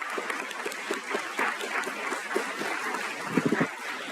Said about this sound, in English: let's give a round of applause to Steve and to all of our faculty